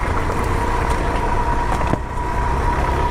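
A 2025 Suzuki DR-Z4S dual-sport motorcycle being ridden through the woods, its engine droning steadily and close throughout, with no pauses in the sound.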